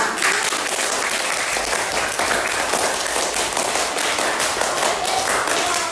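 A fifth-grade class claps in a classroom, a brisk, continuous patter of many small hands, loud and close for several seconds.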